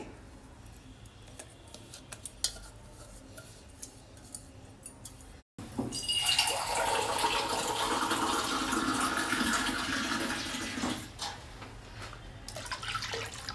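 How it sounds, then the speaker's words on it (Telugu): Quiet clinking and faint background, then a sudden steady rush of water pouring into a pot for several seconds, easing off near the end, while making amla rasam. "రెండు గ్లాసులు నీళ్లు పోసుకున్నాను."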